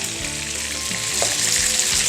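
Chicken pieces fry in a pan with a constant, dense sizzle and crackle, close and fairly loud, with no talk over it.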